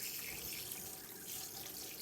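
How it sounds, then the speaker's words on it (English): The kitchen tap of a 2024 Adria Twin 640SGX Supreme campervan runs steadily, giving a continuous close hiss of flowing water into the sink with no voices. "To use your kitchen tap, again, you've got to make sure the water pump's on and you get a flow of water."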